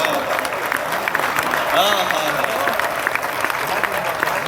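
Audience at a mushaira poetry gathering at a literature festival clapping, a steady, fairly loud patter of applause with voices and calls of approval mixed in throughout.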